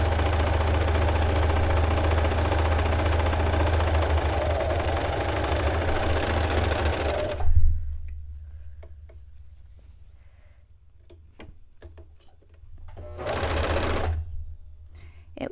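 A home sewing machine stitches reusable paper towels in a steady, loud mechanical whir for about seven seconds, then stops abruptly; afterward only faint handling clicks and a brief rustling burst remain.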